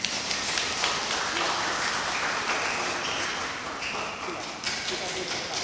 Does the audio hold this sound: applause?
yes